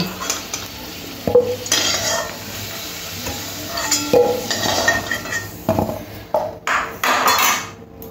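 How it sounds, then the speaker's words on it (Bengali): Fried potatoes are lifted from a wok of hot oil with a spatula, the steady sizzle broken by repeated scrapes, clinks and knocks of metal against the pan, close and loud. "আলুগুলো একদম লাল লাল করে ভেজে নিয়েছি, এবারে উঠিয়ে নেব"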